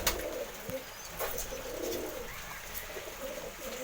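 Pigeon cooing in a rainy-day setting where squabs have hatched, soft low coos repeating under steady background hiss, with a few faint chirps mixed in.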